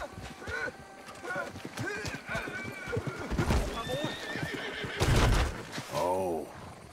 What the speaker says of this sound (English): So the horse is going to bolt.